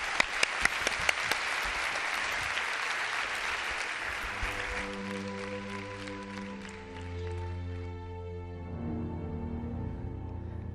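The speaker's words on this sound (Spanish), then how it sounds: "te doy un abrazo y las gracias y este aplauso de toda la gente que ha venido aquí" Studio audience applause on a Spanish television programme, a dense roar of clapping up front that fades out as steady, sustained music swells in beneath it.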